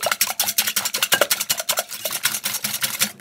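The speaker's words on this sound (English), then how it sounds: "I'm supposed to beat these eggs with a whisk, and we'll whisk them up." A wire whisk beats eggs in a bowl, with quick, evenly spaced scraping strokes about five per second, close and clear with no talking.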